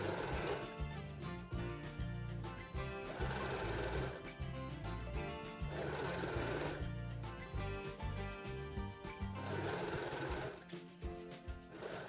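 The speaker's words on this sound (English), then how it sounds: "now we're gonna sew the other side" Sewing machine stitching a vest, whirring in fast mechanical runs that pause and restart several times, close and steady, with no talk.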